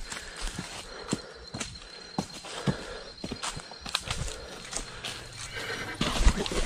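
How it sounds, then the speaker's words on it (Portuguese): Horse hooves clip-clop along a dark hillside trail at night, irregular thuds mixed with a horse's whinny and rustling footsteps, moderately distant and fairly quiet. "Eu tô escutando barulho de pisada de cavalo, mano."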